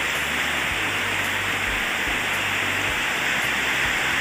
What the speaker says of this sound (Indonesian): karena secara kebetulan sekarang lagi hujan